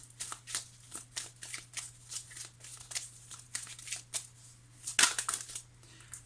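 Tarot cards are shuffled and laid out in a run of soft, quick riffling and snapping bursts, with one sharper slap near the end, close and fairly quiet over a steady low hum.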